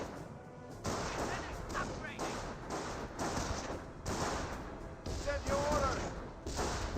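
Gunfire and rifle shots in a Company of Heroes World War II battle with American airborne squads, a dense rattle of shots and thuds running steadily under constant commentary, with louder bursts near the end.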